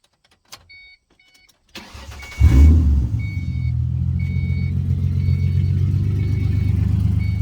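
A 2005 Mustang V6 with new catalytic converters and a clogged muffler cranks briefly and catches, then settles into a steady, rumbling idle close by. Light faint beeps sound before the start; no one speaks.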